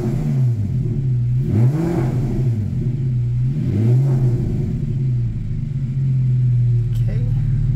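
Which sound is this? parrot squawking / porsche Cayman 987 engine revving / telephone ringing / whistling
porsche Cayman 987 engine revving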